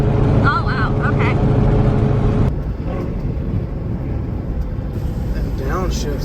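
A cammed twin-turbo Ford GT500 revving hard on open streets, its loud engine roar dropping in pitch as it downshifts, with a sharp change midway and a voice briefly over the continuous rumble.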